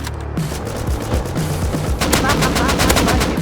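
Gunfire in the video game Rust, where an M2 fires rapid bursts at close range. The shots come as dense, sharp automatic volleys that grow louder and more continuous in the second half.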